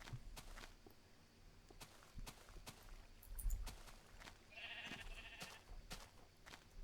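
Sheep bleating in a video game swamp area, a short nasal bleat standing out over quiet game ambience with scattered clicks and soft footstep-like taps.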